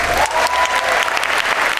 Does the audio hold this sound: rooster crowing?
no